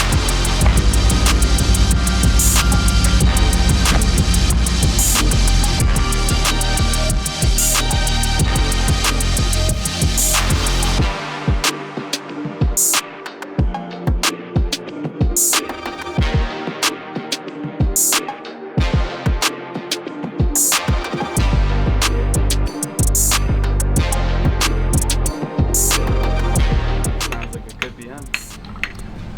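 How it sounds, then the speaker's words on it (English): Stack slate and rock work being built beside a garden pond with waterfalls, a busy stretch of clinking, knocking and scraping stone with constant running water beneath, loud and close. "Anthony and Jason are hard at work doing some stack slate work,"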